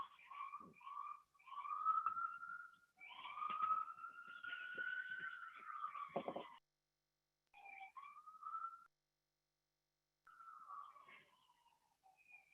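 An emergency siren passes outside during an online zoning committee meeting, its faint wail rising and falling in long sweeps, broken by short gaps as it moves away.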